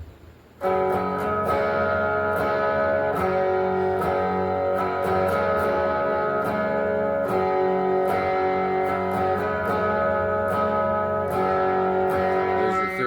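A loud, sustained distorted electric guitar chord ringing thick and buzzy, with sharp rhythmic pick attacks cutting through, no voices.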